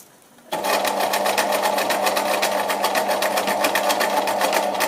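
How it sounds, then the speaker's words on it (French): A sewing machine runs steadily at close range while stitching a mitered hem corner, a continuous even whirr of rapid needle strokes that starts abruptly after a brief quiet moment and carries on without pause. "Et je continue de coudre."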